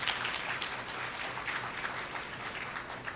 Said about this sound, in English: Please big applause to him